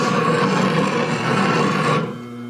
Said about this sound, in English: If I lay the skew down flat, what I'm doing is scraping, and I'll take it in here a little bit and show you what happens.